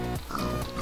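A Minecraft pig giving a short run of grunting oinks and snorts, close and clear, in a brief burst of about three quick calls.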